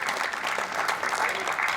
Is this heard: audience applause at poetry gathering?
yes